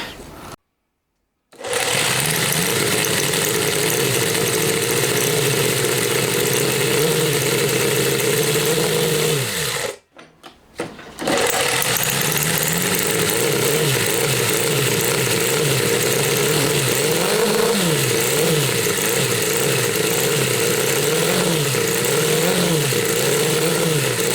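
A Honda Monkey fitted with a four-cylinder CD125 engine and a small carburettor runs steadily after a brief silence, a loud buzzing drone with slight wavering revs and one short cut-out near the middle.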